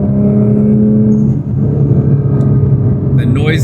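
A new performance car engine pulls hard under acceleration, a loud, steady low rumble with rising tone and sharp hissing bursts from blow-off valves near the end, heard from inside the cabin.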